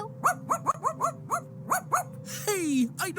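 A cartoon dog barks in a quick series of short, yappy barks at close range, followed by a drawn-out whining sweep and a final yip.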